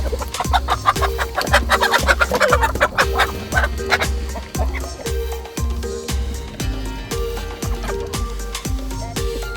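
Chickens cluck and roosters call repeatedly, close by, alongside a steady rhythmic mechanical thumping.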